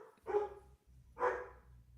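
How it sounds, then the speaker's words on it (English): An angry dog gives two separate gruff barks about a second apart against a low rumbling background. The barks are moderately loud, and no one speaks. "Got an angry dog."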